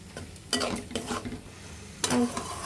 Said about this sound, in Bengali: এখন ভালোভাবে কষিয়ে নিতে হবে